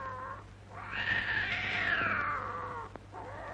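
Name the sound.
cats yowling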